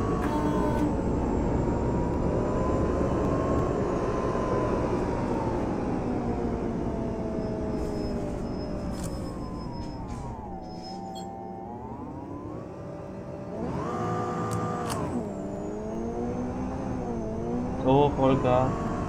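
MAN NL 313 EEV city bus with ZF Ecolife gearbox in the OMSI 2 simulator, engine at full throttle: a steady loud diesel drone rising and falling in pitch through gear changes, with a brief dip and lighter clicks near the end.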